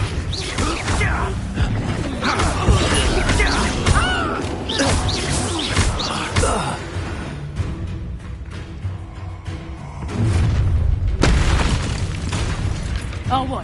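Incendiary fire spells blast during Hogwarts Legacy combat: repeated booms and crashing bursts mixed with voices speaking and shouting over the fight.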